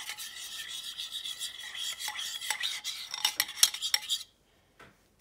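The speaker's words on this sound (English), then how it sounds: "I'm going to go ahead and stir this up" A spoon scrapes and rasps around a bowl while a spiced topping mixture for ham and cheese sliders is stirred, making steady close-up clinks and scrapes for about four seconds before stopping, followed by one faint tap.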